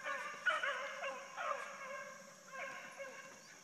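A young deer-hunting dog puppy yips, whimpers and gives short high barks in an uneven series, moderately close against a quiet outdoor background.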